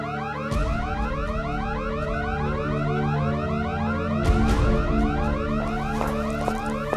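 Perimeter security alarms wail loudly and continuously, a repeating rising electronic tone with layered harmonics sounding alone, with a brief extra burst of noise near the middle.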